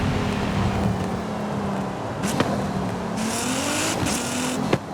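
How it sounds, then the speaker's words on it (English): A drivable race car engine idles steadily and loud, with a low droning hum throughout and a few short throttle blips near the end. "Listen to that engine."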